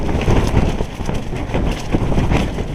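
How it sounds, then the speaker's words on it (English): Strong wind buffets a tent on a Pacific Crest Trail hike, roaring and gusting in loud continuous rushes with flapping fabric close to the microphone. "It's just insane how fast and hard the wind is blowing right now"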